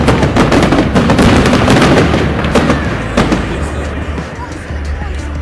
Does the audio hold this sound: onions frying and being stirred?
no